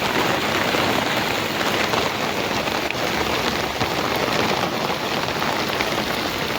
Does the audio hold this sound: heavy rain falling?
yes